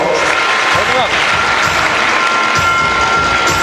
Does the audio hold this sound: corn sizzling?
no